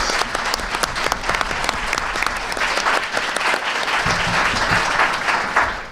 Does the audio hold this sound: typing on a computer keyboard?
no